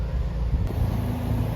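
A Nissan Sentra B14 GTS with a rodent-chewed wiring harness rumbles close by, a steady low engine drone throughout with no voices.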